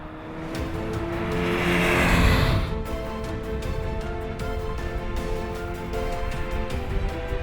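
A Mazda MX-5 convertible sports car engine revs hard on a track and roars past close by, then settles into a steady, buzzing drone as it keeps running.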